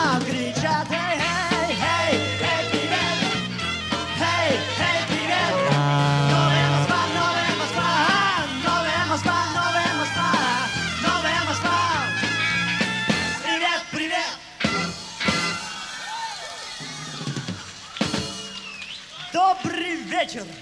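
Live concert by a band at a disco club, with shouted 'hey, hey' chants from the crowd and stage over loud, dense band music, ending in scattered louder bursts.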